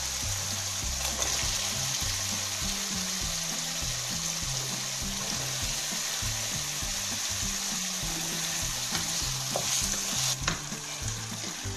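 Potatoes tumbling into fried spice masala with yogurt in a pan for vegetable biryani, a steady close sizzle and frying hiss with stirring scrapes running throughout.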